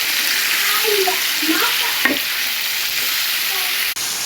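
Chicken pieces with turmeric frying in an uncovered wok, a loud, close, continuous sizzle with occasional stirring knocks and one sharp clack partway through.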